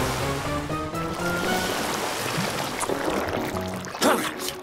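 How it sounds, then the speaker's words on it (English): Cartoon water spray gushes steadily as it washes slime off a police car, a continuous rushing splash under background music and effects, ending with a brief burst. "Morphle, spray their slime away with your water."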